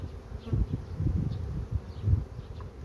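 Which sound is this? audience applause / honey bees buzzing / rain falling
honey bees buzzing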